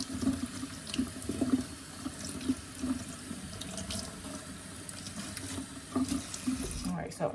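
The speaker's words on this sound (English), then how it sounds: "Oh, the water picking up." Water from a bath tap runs steadily, splashing and gurgling close by, with soft handling noises over the flow.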